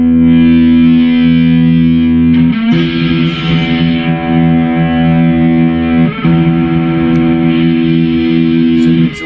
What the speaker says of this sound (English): So it's like a ratty distortion.